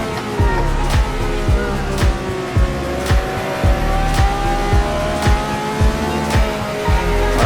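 A formula race car drives through a chicane. Its loud, close engine note pulses in steady rapid rhythmic surges throughout, with faint hints of tire noise.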